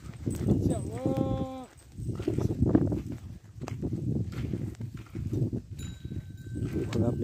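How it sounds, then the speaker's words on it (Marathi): A pair of bullocks pulling a seed drill to sow soybean in a farm field, with steady hoof thuds and rattling under someone talking nearby. "बैलावर पेरणी करतोय आपण, ट्रॅक्टरऐवजी आपण बैलाची पेरणी"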